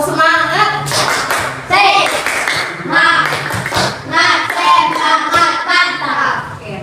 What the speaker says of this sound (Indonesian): Kita tetap semangat dulu ya, tepuk semangat.